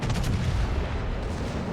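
Queen Elizabeth battleship secondary guns firing in World of Warships, a dense, continuous barrage of overlapping booming shots with a heavy rumbling low end, loud and sustained with no pauses.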